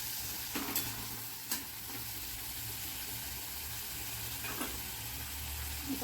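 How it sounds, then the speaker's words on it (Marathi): Tomato masala cooks in oil while being stirred, giving a soft, steady sizzle with a few faint spoon scrapes and knocks against the pan, under quiet background music. "पूर्ण आपल्याला टोमॅटो त्याच्यात मुरवायचे आहेत तेलमध्ये."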